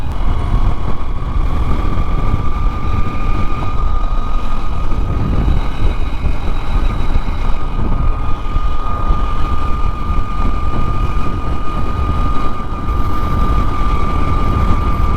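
A Honda 125cc motorcycle cruises along a road, its engine a constant loud drone with steady wind and road rumble throughout, no breaks or voices.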